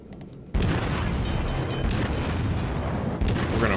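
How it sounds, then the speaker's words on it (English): Heavy naval gunfire from a Japanese battleship firing high-explosive shells in a World of Warships battle: a sudden loud boom, then a sustained roaring wash of blast and rumble that fills the rest of the moment, with no talk. "He's firing HE rounds."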